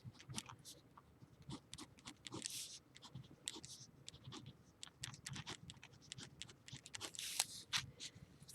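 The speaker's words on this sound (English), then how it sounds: "let's draw two base graphs" Pen scratching on paper while graphs are drawn for a logarithmic functions lesson: quiet, close strokes and scrapes in irregular bursts, with short pauses between lines and no talking.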